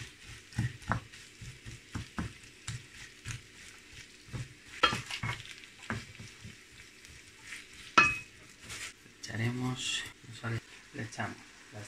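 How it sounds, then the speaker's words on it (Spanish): Onion fries in a little olive oil in a frying pan, a soft sizzle beneath frequent spoken instructions, punctuated by spoon scrapes and utensil clatters against the pan. "En esta sartén vamos a poner un poquito de aceite de oliva. Y vamos a echar nuestra cebolla."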